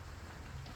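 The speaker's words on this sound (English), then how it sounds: "it started raining since the last scene." Rain falls steadily outdoors, a soft continuous hiss of drops with no other sounds standing out.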